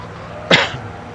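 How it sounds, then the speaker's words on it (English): A single sharp human cough, close and loud, bursts out alone in a quiet room. "sorry guys for the cough"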